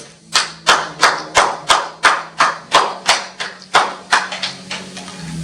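A church congregation clapping together in a loud, steady, evenly spaced rhythm, about a dozen strong unison claps close by with a low musical hum underneath.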